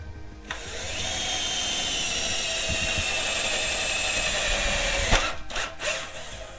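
A drill-tap cuts 1/4-20 threads into a metal electrical case, a steady high power-drill whine lasting several seconds, close and loud, then stopping with a few short clicks and bursts as the tool is released.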